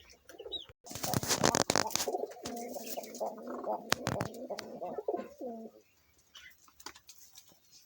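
Pigeons at a pigeon farm coo in repeated low, throaty phrases close by, with brief sharp knocks and wing flutters in between, then fade to quieter background.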